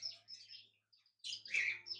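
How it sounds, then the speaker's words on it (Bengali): A pair of lutino cockatiels in a large cage at a bird farm give faint, high chirps in two short bursts with a brief quiet gap between them. "একজোড়া লুটিনো কোকাটেল পাখি রয়েছে"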